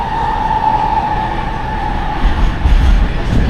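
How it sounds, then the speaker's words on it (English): A train passes at a New York airport with a steady rumble and a sustained mid-pitched whine, fairly loud and close, growing a little heavier toward the end. "So yeah, there's a train."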